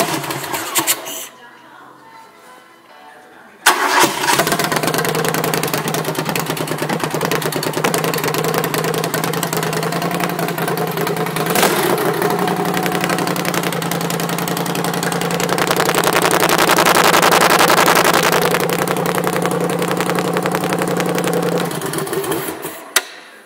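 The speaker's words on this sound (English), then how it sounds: "That was a little cold start, like a 2-day cold start." The cold engine of a Suburban truck starts after sitting two days. It cranks and catches, then settles into a loud, steady, rough idle with a fast mechanical clatter that runs on close by.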